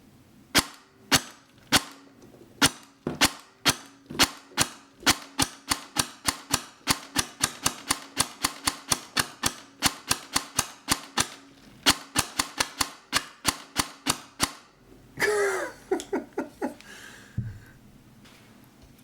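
Rapid series of sharp snapping shots from a T238 Griffon tracer gel blaster, about forty fired in a steady rhythm, near and crisp, followed by brief clattering handling noise at the end.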